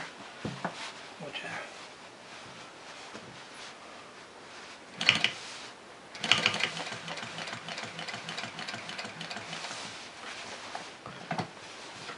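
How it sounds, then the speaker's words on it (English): A Cobra Class 4 industrial sewing machine stitches fabric in short whirring runs with a rhythmic mechanical clatter, close by, with brief louder bursts and someone talking now and then. "Keep that fabric kind of straight here."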